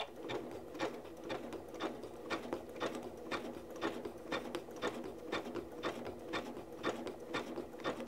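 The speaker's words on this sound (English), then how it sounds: "So it's just going to do straight stitching until I start engaging that knee lifter." A Janome MC9400 QZ sewing machine running straight stitches, a steady rhythmic mechanical ticking of evenly spaced needle strokes over a low motor hum, close and moderately quiet.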